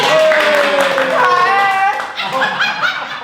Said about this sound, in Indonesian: Boleh dikasih tepuk tangan